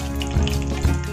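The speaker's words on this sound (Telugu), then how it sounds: "పోపు వేగిపోయిందండి." Tempering spices crackle and sizzle in hot oil for a brinjal chutney, producing a steady, close frying hiss with a couple of small louder pops, and no voice over it.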